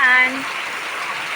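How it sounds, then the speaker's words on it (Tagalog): Heavy rain pours in a steady, dense hiss that fills the whole stretch, with a brief voice at the very start before the downpour carries on alone. "lakas ng ulan"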